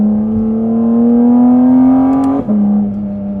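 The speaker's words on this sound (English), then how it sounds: "you get a lot of induction noise, and you can hear quite well the engine" Porsche GT4 RS engine induction noise from inside the cabin, a loud steady drone that climbs gradually in pitch under throttle, briefly dips and falls back, then holds on.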